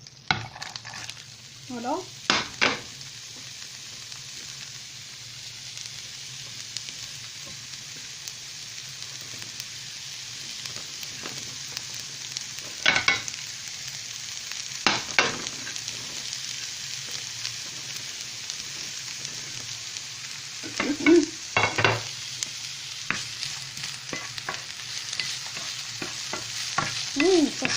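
Onions frying in leftover oil in a pan, a continuous close sizzle with a few stirring scrapes and clinks, and a brief word spoken once.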